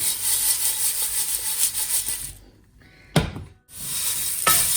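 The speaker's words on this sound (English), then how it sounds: "So I will just mix it with a light hand." Cornflake namkeen snack tossed lightly by hand in a bowl gives a dry, crisp rustling that runs steadily, drops away briefly, then returns with a sharper crunchy rustle near the end.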